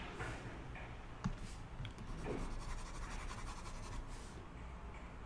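Chalk or marker scratching steadily across a board during a geometry lesson on polygons inscribed in a circle, with short strokes and taps in a quiet room, no talking.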